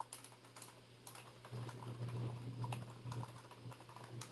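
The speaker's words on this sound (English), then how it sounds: "Let me type it in the chat for you." Typing on a computer keyboard during a live SQL lesson, a steady run of light clicking keystrokes over a low electrical hum, picking up slightly louder in the second half.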